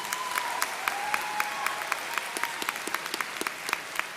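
Graduation audience at Brown Deer High School applauds the class president, a steady wash of clapping from a large crowd with individual claps standing out, moderately distant and even throughout.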